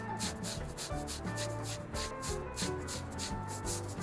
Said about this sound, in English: We're nearly done with this sanding part.